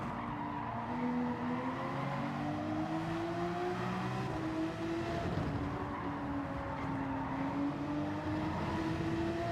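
Race cars in Gran Turismo 7 at Circuit de Spa-Francorchamps during a 12-hour endurance race, engines droning and rising in pitch as they pass, with tire squeal, steady and loud throughout without talk.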